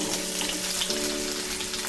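Ginger frying in a pan for a ginger-garlic chutney gives a steady, even hiss of sizzling oil that runs unbroken throughout, with a faint hum underneath.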